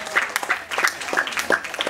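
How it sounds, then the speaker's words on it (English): A short burst of audience applause at a katha gathering at Milan Mandir, with scattered claps rising and falling over about two seconds, moderately loud with some crowd noise. "A round of applause for Anadika,"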